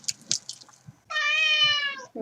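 A cat gives one clear, sustained meow up close, after a few soft clicks and small mouth noises.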